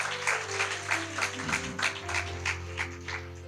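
A church congregation claps along in a steady rhythmic beat, the claps evenly spaced and fairly soft, over a sustained musical tone.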